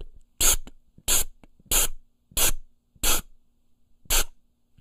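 A voice imitates an aerosol spray with six short, sharp hissing bursts, evenly spaced with brief silences between, demonstrating a trumpet tongue articulation.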